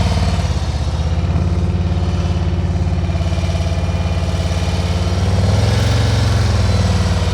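A motorcycle engine holds a steady, moderately raised idle during slow-speed riding practice, a continuous low rumble with a slight swell toward the end and no talk.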